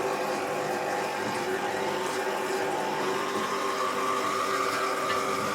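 A parts washer pump runs in a workshop during engine building on a Kawasaki KZ1000J motorcycle project. It makes a steady, even mechanical hum with a faint watery whir, constant throughout and without speech.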